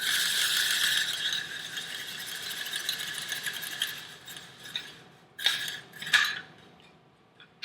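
Kitchen gadget handle being cranked on butternut squash strips, a clattering, ratcheting metallic whir that fades, then a few sharp clicks and clanks.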